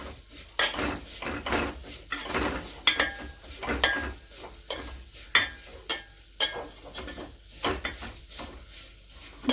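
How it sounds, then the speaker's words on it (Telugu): Vermicelli (semiya) roasts in a pan for semiya payasam, with repeated scraping and clinking stirring strokes against the metal over a faint sizzle. "సేమియా వేసుకుని బాగా రోస్ట్ చేసుకోవాలి"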